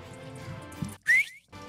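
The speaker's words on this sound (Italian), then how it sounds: "tipo un fischio" A single short, rising whistle-like tone stands out in Minecraft BedWars gameplay, loud and brief, after a stretch of quieter background game noise.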